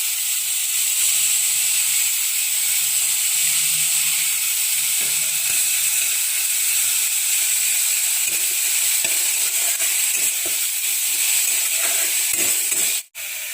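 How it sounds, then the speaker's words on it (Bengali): Onion paste sizzles and fries in a kadai, a steady bright hiss lasting throughout with a few soft stirring knocks, no talking. "আমি কড়াইতে এখন পেঁয়াজ বাটা দিয়ে দিচ্ছি।"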